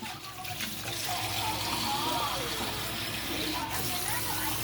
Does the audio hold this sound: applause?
no